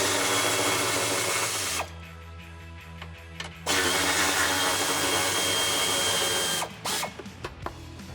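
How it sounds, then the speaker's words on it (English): A power tool drives a 16mm socket to back bolts out of a Jeep Wrangler JL rear bumper bracket, a steady whirring ratchet buzz in bursts close by, with brief pauses between runs. "You're going to use a 16mm socket to get those out."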